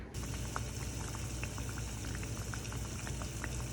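Beef fat renders in a kitchen pan, a continuous dense bubbling and sizzling with tiny crackling pops, steady and fairly quiet throughout.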